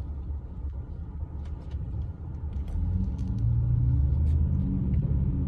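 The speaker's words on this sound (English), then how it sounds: "And now we're on the highway. And we're driving to the airport." Interior of a car cruising on a highway toward the airport, with a steady low rumble of engine and road noise that grows slightly louder as speed picks up, plus a few faint clicks and rattles.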